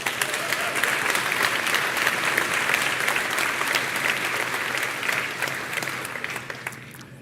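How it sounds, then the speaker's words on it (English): Audience applause at a bank's annual results presentation, dense sustained clapping from a large room that holds steady for several seconds before thinning out at the end. "you guys can feel free to jump in with applause at any time"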